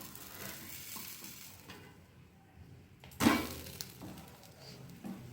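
Ghee sizzles softly on a hot pan under a freshly flipped Chettinad-style double dosa, a low crackling hiss broken by a single sharp clatter partway through, with no talking.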